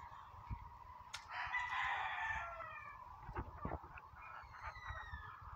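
Chickens in a simple new coop, hens clucking with a rooster crowing once loudly in the middle, other fowl calls and scattered clucks around it, close by with no talking.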